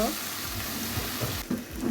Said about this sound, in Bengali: মাংসগুলো একটু কষিয়ে নিই।